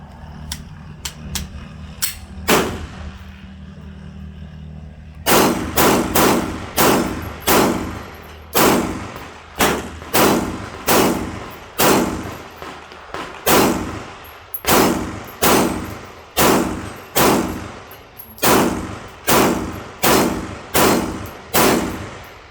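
Rapid gunfire from a Glock 22 .40 pistol fed by a long SGM Tactical extended magazine: a few scattered shots, a short pause, then a sustained string of loud, evenly spaced reports, close and dry with no talking.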